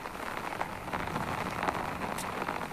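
Steady rain falls over Dhaka, a dense, even hiss of drops on surfaces with occasional brighter splatters, moderately faint and continuous, no voices.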